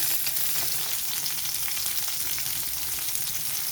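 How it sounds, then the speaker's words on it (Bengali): Onion sizzles in mustard oil in a wok with gram masala sticks and panch phoron, a dense continuous close crackle holding steady throughout without voices. "এবার পেঁয়াজটাকে আমি একটু লাল করে ভেজে নেব।"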